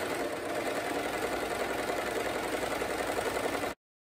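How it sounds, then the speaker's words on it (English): An overlocker sews a seam on a layered net petticoat with a steady, fast mechanical whirr that runs evenly near the listener and then stops abruptly. "I'm going to overlock that again so that everything's nice and smooth, and it's not going to be catching"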